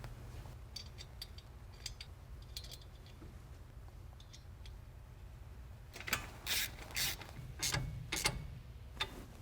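A ratchet tightens the nut on a Jeep Wrangler front disc brake caliper, with faint light clicks at first, then bursts of louder, rapid ratcheting close up.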